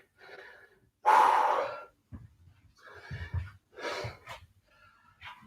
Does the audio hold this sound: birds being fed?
no